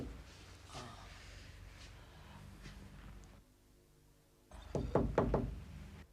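Knocking at a house door on a Hindi TV serial set: several firm raps close by near the end, after a stretch of low room tone.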